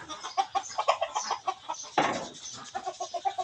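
Fighting-breed chickens clucking in a steady, rapid run of short clucks, close by and with no other sound.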